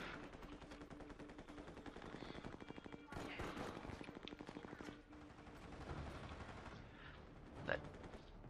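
Machine-gun and rifle fire from the shooter game Army of Two: The Devil's Cartel, rattling in dense rapid bursts through most of the stretch with one sharper shot near the end, mixed with game noise and a voice talking.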